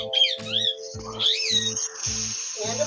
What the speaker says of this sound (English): Oh my God, it's a baby chicken.